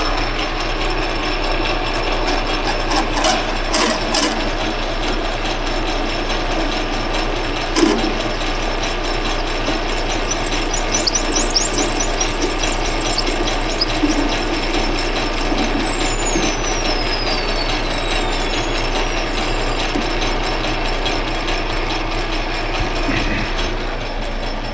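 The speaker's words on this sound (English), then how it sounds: "Lock the carriage and nip this one off, and we'll have the bottoms all cut off." A metal lathe parts off the bottoms of brass wick tubes for a stationary engine. It makes a steady, loud mechanical drone with clicking and a high whine that rises and falls throughout.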